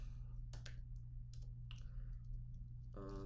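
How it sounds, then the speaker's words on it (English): Keyboard typing: a few quick clusters of key clicks spread across a few seconds, fairly faint, over a steady low hum with a short tonal sound at the end. "Let me type it out."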